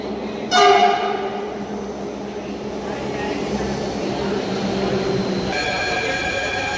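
A metro station with a train: a sharp horn blast rings out early, then a steady rumble and hiss of the rolling train fills the space, and a second high horn tone sounds near the end.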